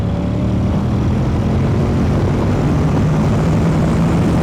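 A Honda NC750X motorcycle accelerating hard in fourth gear, a loud, steady engine roar with a rising tone and heavy wind rush throughout.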